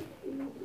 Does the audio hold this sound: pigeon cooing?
yes